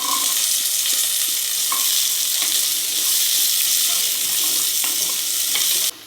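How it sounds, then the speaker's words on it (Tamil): Chopped vegetables sautéing with onions in a kadai for a Coimbatore-style sambar, a loud continuous sizzle with repeated stirring scrapes throughout and no talking. "காயை நம்ம ஓரளவுக்கு நல்லா வணக்கிக்கலாங்க"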